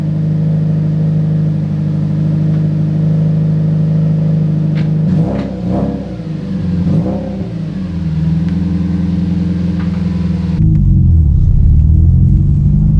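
A Subaru STi on a test drive, its engine rumbling steadily from inside the car with a few bumps and shifts midway, then a louder surge of engine noise near the end.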